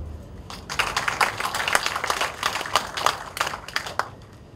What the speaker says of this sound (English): I think we should appreciate them by a clap